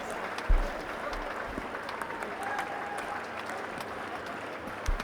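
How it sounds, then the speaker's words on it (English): Visiting cricket fans applauding a catch in the stands at a Pakistan vs England Test match, a sustained spread of clapping from a crowd at middle distance, with faint low thumps. "gratefully accepted and gratefully applauded by the visiting contingent here in the stands"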